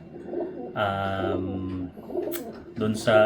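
Racing pigeons cooing inside a loft, with a few drawn-out throaty coos near the start and end over a low murmur of birds and a voice speaking.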